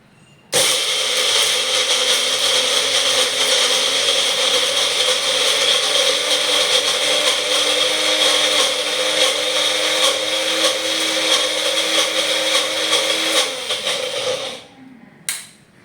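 Mixer grinder whirring as it blends chutney to go with ragi and drumstick-leaf dosa: a loud, steady motor drone that starts abruptly, runs for about thirteen seconds, then winds down and stops.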